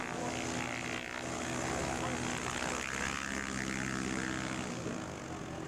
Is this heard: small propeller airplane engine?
yes